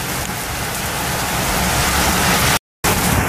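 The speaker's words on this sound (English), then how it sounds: "The rain is fierce out here." Heavy rain pours down steadily during a severe evening thunderstorm in Westbury, a dense, loud hiss with no voices, broken by a brief dropout near the end.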